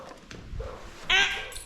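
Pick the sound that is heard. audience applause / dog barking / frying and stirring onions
dog barking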